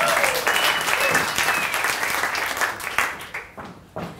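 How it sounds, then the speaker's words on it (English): Audience applause fills a comedy show venue, dense and steady at first, then thinning into scattered claps that fade out near the end. "Give him a round of applause."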